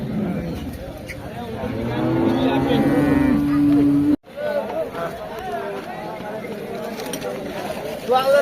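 A cow at a village purchase moos in drawn-out low calls amid outdoor commotion, with people talking over it and a brief break midway.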